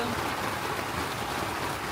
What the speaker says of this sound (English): It's been 3 days of rain, constant raining